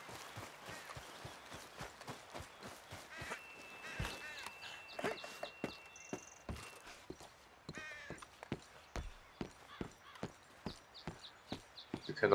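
Horse hooves clip-clop in a steady rhythm across open ground in Red Dead Redemption 2, faint and even, with occasional birdcalls and soft game sounds around them.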